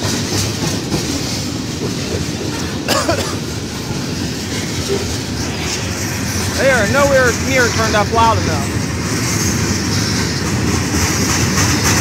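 A Canadian National freight train, locomotive 8866, passes through Effingham, Illinois, with a steady loud rumble and clatter of wheels on rail and some brief squeals. A person talks over it.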